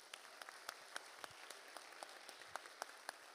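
Scattered clapping from an audience at a French hip hop culture event, individual claps standing out sharply and fairly sparse rather than a dense roar, heard at moderate distance with no talking.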